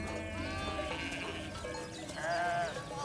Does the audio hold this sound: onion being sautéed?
no